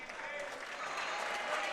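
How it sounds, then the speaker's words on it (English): Crowd applause at a high school boys' basketball game, Assumption versus Pacelli, as a player leaves the court; dense, steady clapping fills the gym and builds slightly. "Nice round of applause for Lamp coming off the court."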